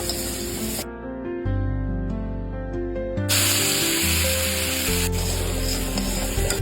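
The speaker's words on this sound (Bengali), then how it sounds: "তেলটা ভালো করে গরম হয়ে গেছে, এখন এটাতে দিয়ে দিচ্ছি আলু" Potatoes dropped into hot oil crackle and sizzle in a dense, loud spray of noise, with music playing over the frying throughout.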